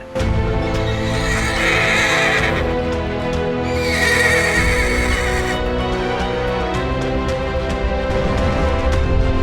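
A horse neighing in repeated loud, drawn-out whinnies over a rumbling backdrop with faint hoof clip-clops, used as a sound effect in a Mahabharata narration.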